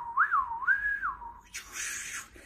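A voice imitates a dial-up modem: two rising, warbling whistles followed by a long hissing static burst, quiet and close.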